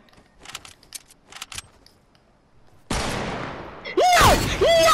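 Gunfire in the Fortnite video game: a few soft early shots, then a sudden loud sustained burst of game weapon noise with rising whistling tones near the end, no speech heard.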